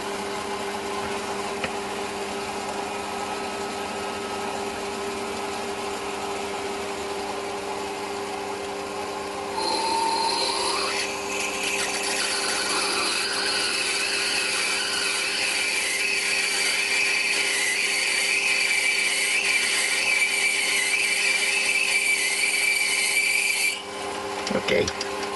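A lathe runs with a steady hum, then a 5.8 mm drill bites into a metal clock part, adding a louder grinding, scraping whir for several seconds before stopping abruptly.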